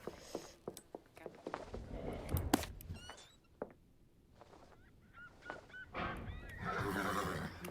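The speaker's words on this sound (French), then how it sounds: "Un des chevaux a un morceau de verre dans son sabot?" A horse in a video game whinnies in short high bursts among clattering game sound effects and other mechanical noises, with quieter gaps between the calls.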